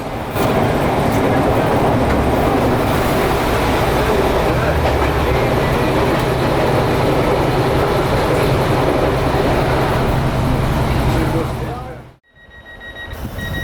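A small narrow-gauge railway train near Ravenglass rumbles and clatters loudly and continuously, close by, before the sound cuts off abruptly near the end.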